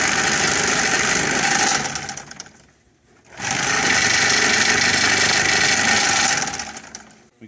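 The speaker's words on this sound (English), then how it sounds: "Unit is sewing as it should." A Bemis bag sewing line unit running, a loud steady mechanical whir and clatter that stops abruptly for about a second, then starts again and runs on at full volume.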